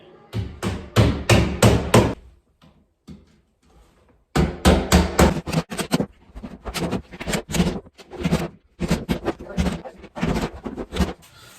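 Nails are hammered into a metal corner flange on drywall beside a master bedroom fireplace, close by. Quick bursts of sharp blows come in runs, separated by short pauses.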